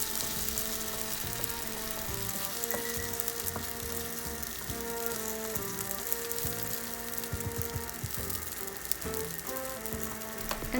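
Okonomiyaki sizzles loudly and steadily on a hot pan, a dense crackling hiss that continues without pause.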